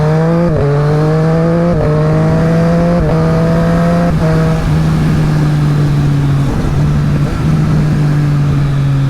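A 2023 Triumph Street Triple RS motorcycle engine roars loud and close while riding, its steady tone rising and dipping through several quick gear changes before settling into a constant drone.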